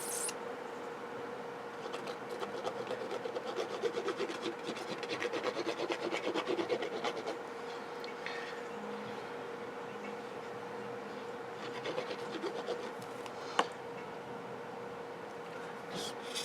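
A bone folder or stylus runs along a scoring board across Christmas craft card, making soft, faint, repeated scraping rubs at steady intervals in a quiet room.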